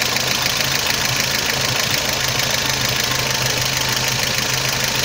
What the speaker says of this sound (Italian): Quando il regime del motore inizia a scendere di giri